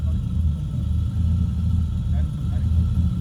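A stage 4 cammed AU Tickford engine fitted to a 1993 NC Ford Fairlane runs close up with a deep, lumpy low-pitched rumble, holding steady revs with a choppy cam pulse throughout.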